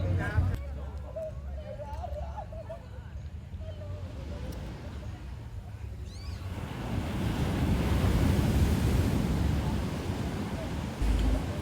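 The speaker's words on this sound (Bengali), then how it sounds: "সমুদ্র" Sea waves wash onto a beach in South Goa at night, with wind buffeting the microphone; the surf swells louder in the second half while a voice and distant babble come through earlier.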